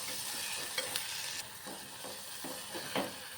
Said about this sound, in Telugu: టమాటా ఉల్లిపాయ బాగా మగ్గేంత వరకు మగ్గించుకుందాం